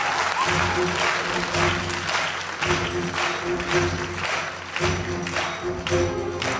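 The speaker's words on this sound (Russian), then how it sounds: "давайте встретим его аплодисментами" Studio audience applause welcoming a guest onto a comedy show stage, a dense, steady wash of many hands clapping that holds loud and continuous throughout, with faint voices mixed in.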